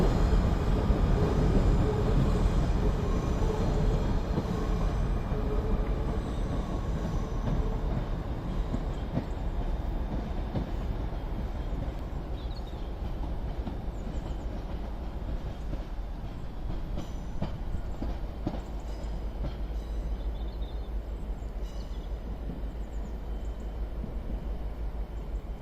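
A Class 153 diesel unit rolls through Crewe station on the West Coast Main Line, a steady loud rumble with clickety-clack wheel beats that gradually fades over about 25 seconds.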